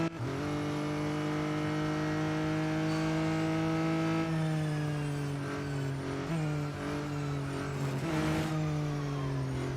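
Race cars roar through a lap in Real Racing 3, engines droning loud and continuous with pitch shifts as gears change and tires squeal briefly, no talk over them.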